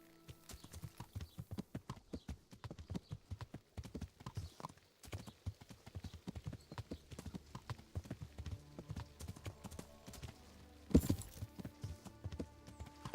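Steady, rapid horse hoofbeats clop along in a galloping rhythm in the video game Kingdom Come: Deliverance, fairly quiet, with a sudden louder thud near the end as the horse lands from a jump.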